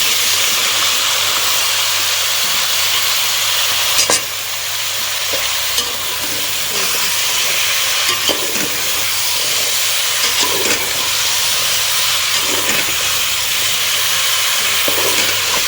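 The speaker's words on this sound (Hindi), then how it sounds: "ये सारे आलू मैं अब इसके अंदर डाल दूँगी। इसको भूनूंगी हल्का सा ऑयल में।" Potatoes sizzle steadily in hot oil with spices while being stirred, a continuous loud frying hiss with occasional scraping clicks of the spoon throughout.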